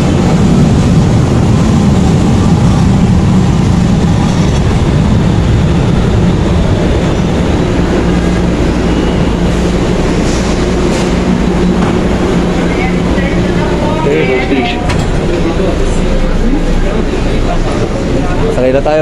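Loud, steady rumble of an LRT light rail train carriage in motion, with continuous low track and motor noise and a few brief squeals, while people talk over it throughout.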